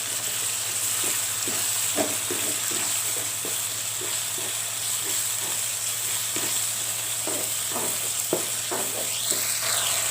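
Fried anchovies being stirred into sambal petai in a hot pan: steady oily sizzling under repeated scraping and clacking of a spatula, close and continuous.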